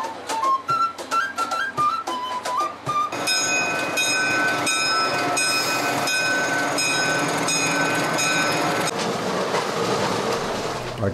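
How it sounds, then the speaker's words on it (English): Hiram Bingham luxury train running on rails toward Aguascalientes near Machu Picchu in Peru. A few short chime-like tones come first, then a steady, loud rolling rumble with a high metallic whine continues alone to the end. "There we'll board the luxury Hiram Bingham train to Aguascalientes"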